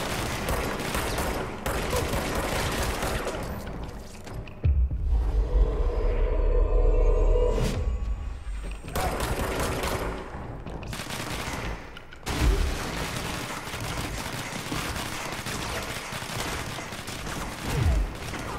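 Heavy gunfire fills a firefight in the game Control, with dense overlapping shots and deep rumbling impacts. A short lull brings a low droning hum, then the shooting resumes loudly.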